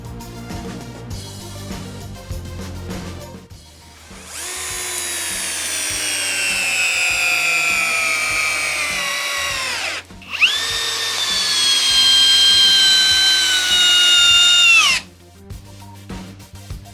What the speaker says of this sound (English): The Festool CSX12 just drove an 8-inch timber lock.